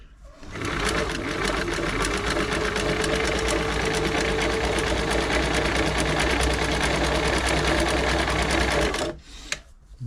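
A Singer 507 sewing machine runs a full-width zigzag stitch in one loud, steady, close-up whir and clatter for about nine seconds, then stops abruptly with a brief click.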